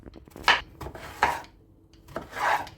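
A knife slices zucchini quarters, eggplant and potatoes into small pieces on a board, giving three separate rasping cuts with short gaps between, close up and with no talk.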